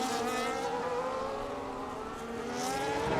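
Formula 1 race cars in the F1 25 game at the Las Vegas Grand Prix hold a steady, high-pitched engine whine with rising and falling pitch, a continuous loud drone with no talk.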